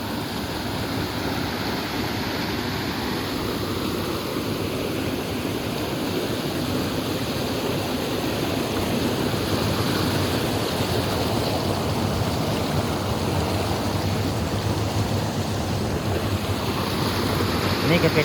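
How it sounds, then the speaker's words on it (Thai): Water pouring at the base of the waterfall at Wat Phu Wian, a constant broadband rush of flowing water close to the microphone with some wind, steady throughout. "นี่คือเป็นด้านล่างของน้ำตกวัดในภูเวียน"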